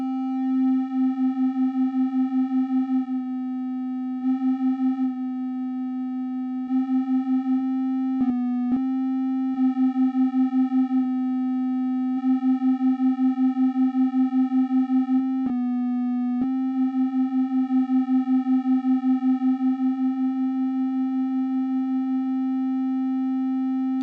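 Korg MonoPoly synthesizer oscillators with general detune applied, a steady buzzy drone holding one pitch with a slight pulsing beat, briefly dropping out and shifting twice; no talking.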